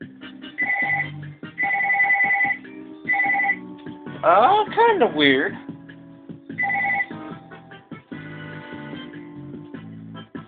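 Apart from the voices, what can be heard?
phone ringing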